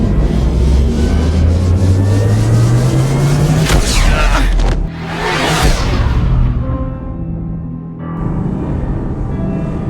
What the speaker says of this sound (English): Activate the drive and I will open the airlocks as we accelerate.